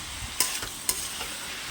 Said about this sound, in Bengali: এখন আর আমি ঢাকবো না, এগুলোকে এভাবে ভাজা করব।